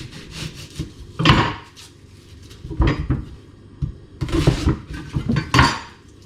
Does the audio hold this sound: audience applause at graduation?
no